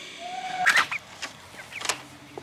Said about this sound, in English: we out at the chicken coop, and we're gonna get a few of the chickens